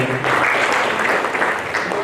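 A crowd applauds at a ceremony in Kanpur honouring descendants of revolutionaries, sustained clapping with loud cheering voices mixed in throughout.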